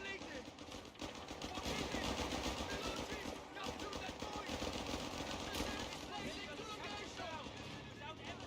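Machine gun fire rattles in a Company of Heroes 3 match, sustained bursts mixed with other battle noise under continuous talk from a caster.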